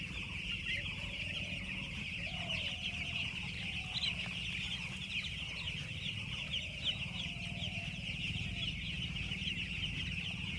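A flock of chickens on a village poultry farm clucks and chatters continuously at a moderate distance, a dense, steady murmur with occasional distinct clucks rising above it throughout.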